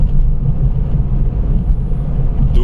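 A car drives at night through Jim Corbett National Park, its engine and tyre rumble a steady, loud, low drone heard from inside the vehicle with no talk.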